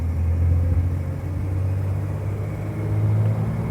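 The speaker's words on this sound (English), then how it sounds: "We're going to get on the highway and run this baby down the road at highway speeds." A 1956 Chevy Deluxe Cab truck cruising at highway speed, heard as a steady low engine rumble and road drone from inside, fairly loud and continuous.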